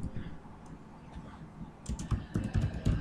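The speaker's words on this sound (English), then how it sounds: "type something here." Typing on a computer keyboard, close up, with a sparse key or two early on, then quick bursts of clicking keystrokes in the second half.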